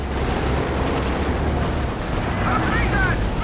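Tank and gunfire battle in the video game Company of Heroes 2, with Sherman, Jackson, Puma and Panzer IV tanks, a dense continuous rumble of shots and explosions under a commentator's voice.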